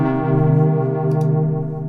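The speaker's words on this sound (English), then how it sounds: "that's drowning in delay and reverb and stuff" Synthesizer pad from an Argon8M or Waldorf Iridium, heavily drenched in delay and reverb, holds a dense sustained chord with shimmering upper harmonics, loud and steady for two seconds with no talking.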